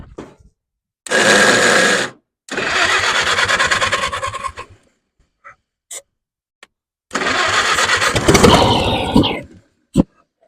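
Old 1927 Chevy truck engine cranking and catching in loud bursts, running rough for a second or two, stopping, then firing again and running unevenly for several seconds before cutting out, with a few small clicks in the gaps.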